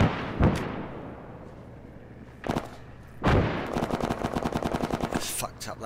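Rapid bursts of M4A1 Block II rifle fire in Arma 3, a couple of single sharp shots followed by a long run of fast, loud automatic rounds close by, with no talk.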